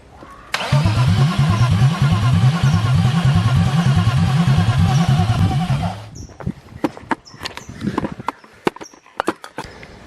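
A BMW E36 with an M50 B25 inline-six cranks and catches, running rough and loud at close range with a pulsing idle for several seconds. It then cuts off, followed by scattered clanks and clicks of handling in the workshop.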